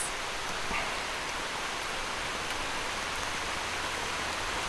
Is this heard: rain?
yes